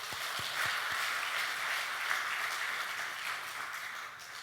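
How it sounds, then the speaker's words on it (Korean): A church congregation applauds at a moderate distance, a continuous wash of clapping with a few distinct claps at the start, gradually easing off. "감사하며 감사의 박수를 한번 올리겠습니다"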